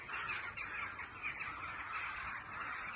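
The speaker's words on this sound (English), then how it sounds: "Ravens or something." A dense chorus of crows or ravens caws continuously, many birds calling at once from a short distance.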